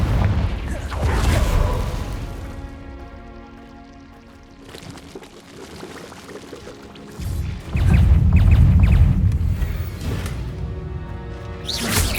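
A Confringo fire spell blasts off in Hogwarts Legacy, two heavy booming explosions with whooshing rumble, the second louder and sustained, close and dominant with game effects around them.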